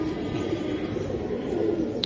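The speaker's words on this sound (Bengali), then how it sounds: "বেজি কবুতর একটা।" A Bezi breed pigeon coos softly and steadily amid a low, constant background rumble, with no talking.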